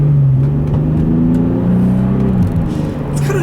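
A 2006 Bentley Continental GT engine pulls hard under acceleration at about 40 mph, giving a steady, loud, close rumbling drone with rising harmonics that dips briefly near the end. No one talks over it.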